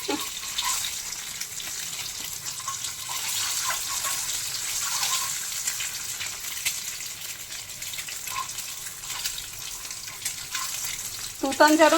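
Eggs rubbed with salt and turmeric frying in a pan, a steady close sizzle and crackle throughout, with a sharper burst of spattering near the end.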